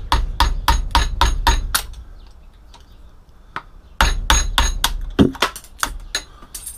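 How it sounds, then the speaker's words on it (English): A screwdriver is struck repeatedly with a hammer to knock a steel plate out of a microwave oven, giving sharp metallic bangs in two quick bursts with a short pause between them, close and loud. "I just put a screwdriver against the edge and just bash it out"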